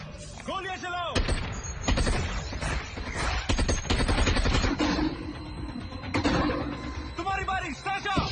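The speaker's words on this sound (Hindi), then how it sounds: "गोलियां चलाओ।" Bursts of rapid gunfire crackle and pop in quick succession, loud and close, with shouting voices breaking in at the start and end.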